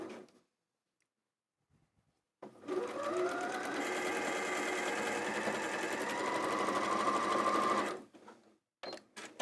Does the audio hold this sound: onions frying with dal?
no